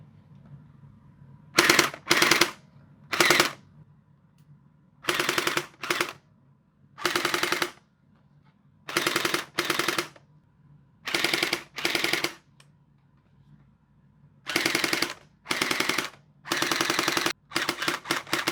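A SplatRBall SRB1200 gel blaster with a tracer drum mag test-fired empty: short full-auto bursts of rapid mechanical rattling, about a dozen separate bursts with brief pauses between, close and loud with no talk.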